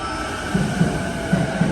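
A train pulls into a station with a steady loud rumble and hiss, punctuated by four soft rhythmic wheel thumps over the rail joints.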